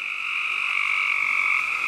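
A chorus of frogs croaks and trills continuously at night in Kentucky's Red River Gorge, a loud, steady, high-pitched pulsing drone with no talking.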